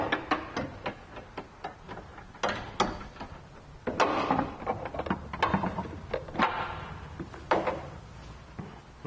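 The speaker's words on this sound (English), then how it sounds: "Now, just going to wiggle the dryer and get it out of there." Old air conditioning dryer being wiggled out of the engine bay of a 2010 Ford Escape produces close, irregular knocks, clunks and scraping rattles of metal and plastic parts, with no talking.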